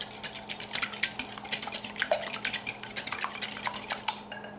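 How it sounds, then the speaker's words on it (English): Three large eggs whisked in a larger bowl for a pumpkin roll, a fast steady run of light metallic taps and scrapes against the bowl, close and continuous, with no voices. "and crack them into the bowl. Whisk those together."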